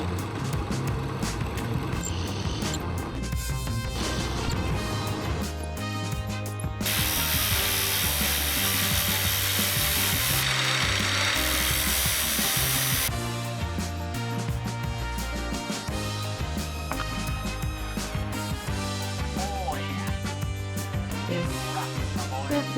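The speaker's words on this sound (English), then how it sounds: "So I will proceed to do some more drilling." A power drill bores holes in moped clutch plates up close. A loud, continuous, gritty whine with grinding metal chatter runs throughout, and a harsher, higher burst comes mid-way.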